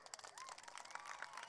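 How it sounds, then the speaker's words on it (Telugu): Scattered applause from an event audience, a loose patter of claps rising and falling throughout, fairly faint and distant, with voices murmuring underneath. "ఒకసారి అలానే కొంచెం గట్టిగా చప్పట్లు."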